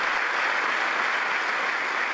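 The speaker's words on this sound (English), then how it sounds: "did I leave in some applause here?" Applause from a congressional audience during Netanyahu's speech to Congress, a steady, dense roar of many hands clapping, heard alone at even volume throughout.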